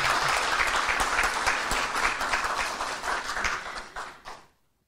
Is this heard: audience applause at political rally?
yes